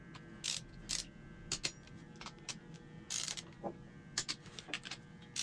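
A torque wrench tightens ARP head studs on a Ford Mustang 4.6 two-valve engine, giving a run of close mechanical ratcheting clicks in uneven bursts, fairly quiet with no talking.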